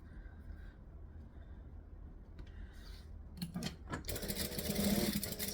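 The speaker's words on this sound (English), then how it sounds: "then I'm going to stitch up, across, and down" Sewing machine stitching a D-ring strap on a backpack, quiet at first, then a burst of rapid mechanical whirring stitches close up toward the end.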